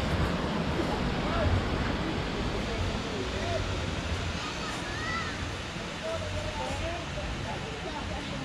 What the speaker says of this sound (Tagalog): yung dagat ay medyo maalon, pero hindi naman siya ganun kalakas ng alon